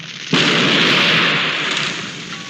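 A cannon fires with one sudden loud blast that rolls into a long, fading rumble, with no voices over it.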